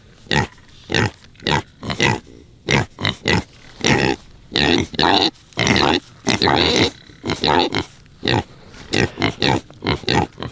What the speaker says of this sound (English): Pigs in the snow.